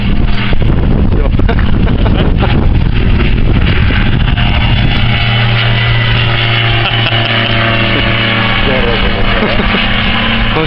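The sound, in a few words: strong wind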